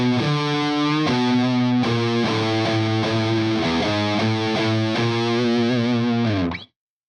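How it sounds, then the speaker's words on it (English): Heavily distorted electric guitar plays a single note riff, a run of thick sustained notes shifting pitch at a moderate pace, loud and close before cutting off to silence. "really cool riff, a single note riff that I love to play"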